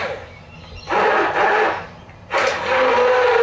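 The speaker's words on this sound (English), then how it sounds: "we're using a handheld blender" Handheld blender whirring through a thick potato mixture with soy milk, two loud bursts of buzzing motor noise separated by a short pause, close and alone.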